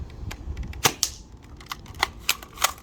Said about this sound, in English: the blaster actually has enough force to make my sight picture jump